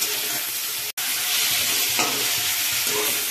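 Spices with salt and a splash of water fry loudly in a pan while being stirred, a close, steady sizzle with scraping strokes, briefly cut to silence for an instant near the start.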